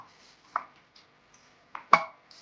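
Onion and masala being chopped fine on a board give a few sparse, sharp knife chops, one louder strike near the end, against near silence with no speech.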